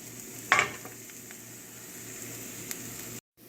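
Onions frying in a skillet for an Asian-style beef and vegetable dish, with a brief clatter as they go in followed by a steady, fairly quiet sizzle.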